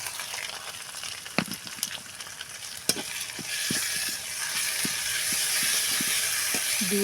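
A ground paste of cumin, garlic and ginger fries in a pan, a low sizzle that builds into a steady hiss, punctuated by repeated light taps and scrapes of a spoon stirring.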